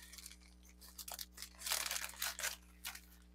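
Scissors cut open a package in short bursts of crisp cutting and tearing, close up and fairly quiet, with irregular snips and rips of packaging material.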